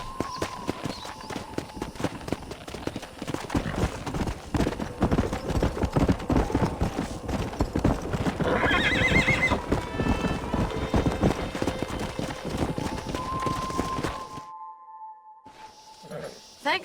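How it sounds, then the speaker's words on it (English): Horses in the Red Dead Redemption video game: rapid hoofbeats gallop steadily under music and game sound, with a high whinny partway through before the clatter fades into quiet. "We got some fine horses."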